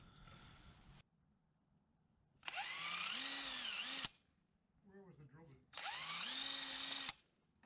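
A power drill drives screws tight into trailer bunk bracket mounts in two loud, close, whirring bursts of about one and a half seconds each, with a person talking briefly between them.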